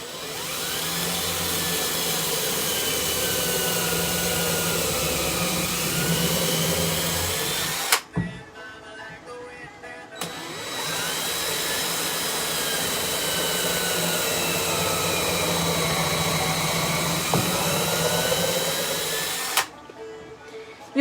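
A power drill bores pilot holes and drives screws into hard pallet wood, whining steadily for about eight seconds, pausing briefly, then running again for about ten more before stopping.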